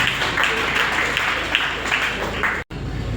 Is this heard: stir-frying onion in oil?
no